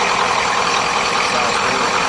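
A used car engine runs steadily just after startup, a continuous broad rushing drone with no distinct rhythm, fairly close and even in loudness.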